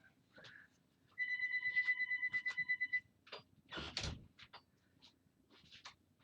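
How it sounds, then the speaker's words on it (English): A phone ringtone plays a repeated electronic trill for a couple of seconds in a quiet room, followed by a door sliding and clunking shut and scattered faint knocks. "And my phone is ringing."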